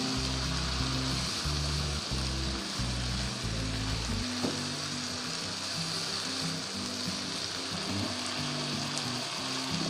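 Vegetables with turmeric and spices fry and sizzle steadily in a pan while being stirred, a dense continuous hiss with a low hum underneath and no voices.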